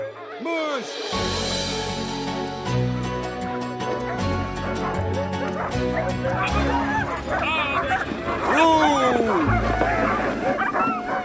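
A team of sled dogs in falling snow barks, yips and whimpers excitedly in repeated overlapping bursts, close and lively, while people talk over them amid a steady low hum.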